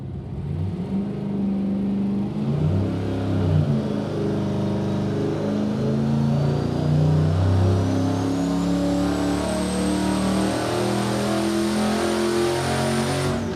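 A turbocharged junkyard short-block engine on a dyno revs hard under high boost, its loud mid-range roar climbing and surging steadily with a rising turbo whine, close and continuous without talk.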